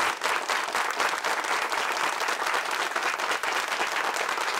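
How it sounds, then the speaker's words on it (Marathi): Steady, dense applause from a studio audience on a Marathi game show, the Kon Honaar Crorepati quiz, sustained loud and even throughout with no talk over it. "टाळ्या वाजत राहायला पाहिजेत मी चेकवर सही करेपर्यंत।"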